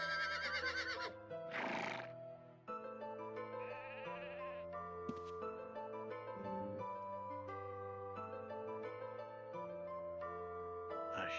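A horse in the role-playing video game Adventurers of Akalabeth neighs as a loud, shaky whinny over ongoing synthesized game music, with no speech.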